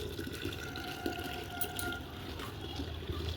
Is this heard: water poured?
yes